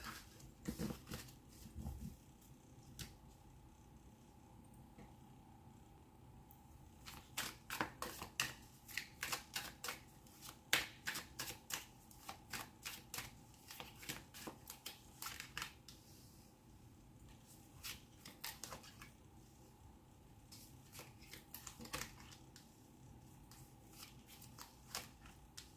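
Tarot cards are shuffled close up in a long run of rapid riffling and slapping bursts, some stretches dense and some sparse, with no talking.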